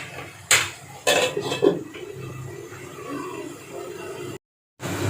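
A metal lid clanks onto a cooking pot several times in quick succession, sharp close knocks over a low kitchen background while vegetable curry cooks.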